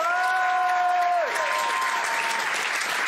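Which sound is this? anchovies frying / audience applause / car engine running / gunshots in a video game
audience applause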